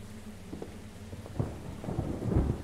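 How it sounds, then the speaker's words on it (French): A thunderstorm in the video game Refuted Wind, with a steady hiss of rain and low rumbles of thunder that swell near the end, and no talking. "Oh, il y a un orage."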